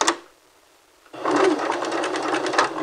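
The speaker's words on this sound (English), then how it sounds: "So insert your fabric at the 5/8 inch mark on your machine. And we're going to back stitch first." Sewing machine back-stitching fabric at a 5/8 inch seam allowance, a brief whir, a pause, then a steady fast mechanical whirring run of stitching, close and clear.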